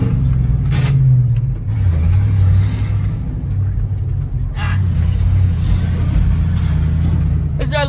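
Engine of a bought vehicle that is hard to handle, running steadily with a loud low rumble while being driven, with slight surges and faint background noise.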